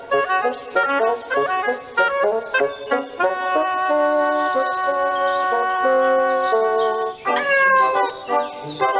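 A cat meows repeatedly in drawn-out, tonal cries, loud and close, with several long wavering calls in a row and no talking.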